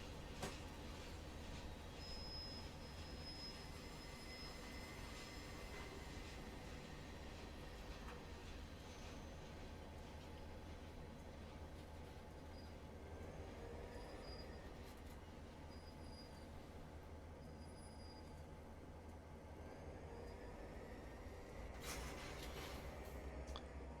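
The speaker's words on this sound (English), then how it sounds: "clunk, clunk, clunk, clunk of railway cars" A video game train rolling steadily in a rail yard with a continuous low rumble, faint metallic squeals and scattered clunks of rail cars, no voices.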